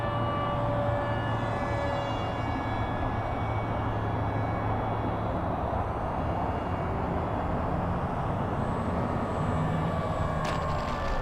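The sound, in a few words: FMS P-40 RC model airplane landing with flaps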